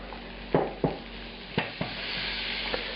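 Butter sizzling in a hot pan while making chicken marsala, a steady soft frying hiss broken by several sharp clinks and scrapes of a utensil against the pan.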